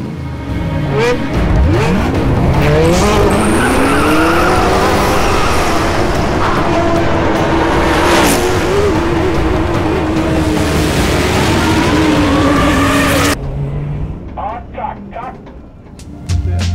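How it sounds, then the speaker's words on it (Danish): An S-bus racing against sports cars in a modified race, with loud engines revving and passing close for most of the stretch under a spoken voice, then dropping off near the end. "S-bussen skal duellere med nogle sportsvogne."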